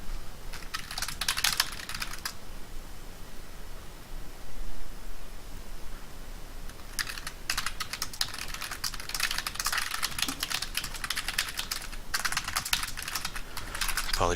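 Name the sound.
mechanical keyboard typing clicks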